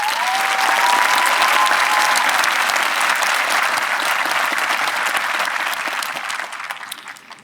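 A graduation audience at Concord-Carlisle High School applauds in a dense, sustained burst of clapping that holds strong for several seconds and then tapers off toward the end.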